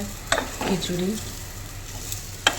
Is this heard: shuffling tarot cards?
no